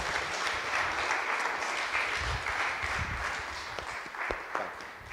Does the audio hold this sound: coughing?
no